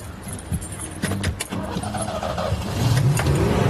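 A Peugeot car is started: keys clink and the starter clicks, then the engine catches and settles into a low hum that grows slightly louder toward the end.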